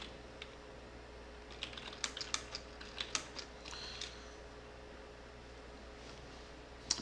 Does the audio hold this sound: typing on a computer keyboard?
yes